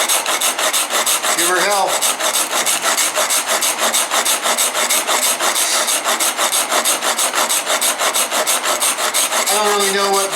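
A blade is rubbed back and forth on a sharpening stone of unknown, probably medium grit, at a 30-degree angle, making a steady, close rasping scrape in even strokes throughout, with a brief voice near the start and again at the end.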